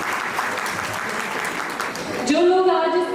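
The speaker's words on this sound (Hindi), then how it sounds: "तालियां हो जाए।" Applause from a beautician seminar audience runs for a couple of seconds, a spread-out clatter of many hands, and then a voice takes over.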